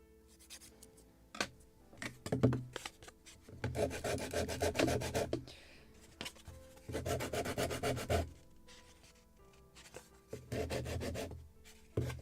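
Coarse sandpaper rubbing along the wooden planking of a model lobster smack kit boat, in repeated bursts of rasping strokes separated by short pauses, close and quiet with no talking.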